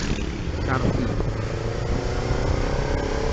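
A motorcycle rides on a countryside tour near a tea plantation in Malang, East Java, its engine droning steadily with wind noise while a rider talks over it.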